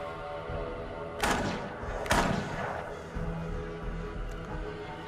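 Gunshots from a Walking Dead episode scene, two sharp heavy blasts about a second apart followed by dull thuds, booming over a low rumbling background.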